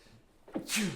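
One sharp sneeze close to the mic, a short intake of breath and then a bright burst, over quiet room tone.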